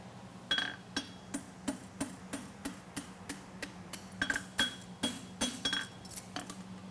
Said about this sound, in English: It's a hammer finish class, so you got to close up the end of that concave.